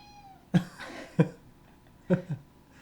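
Finn, a pet cat roaming a podcast studio, lets out a few short, separate meows spaced across a quiet room.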